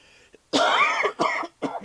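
Three harsh coughs from acid reflux close to the microphone, a longer throaty one followed by two shorter bursts, with brief silences between them.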